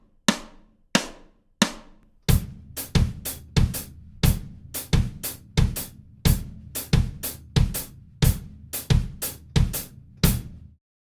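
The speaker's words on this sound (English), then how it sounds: "playing the 3/16 accents on the hi-hat, and I'll use the kick drum for the quarter notes" A drum kit plays sharp, evenly spaced hi-hat accents grouped in threes against a steady quarter-note kick drum, giving a repeating polymetric pattern. The hits are close and punchy with no voices.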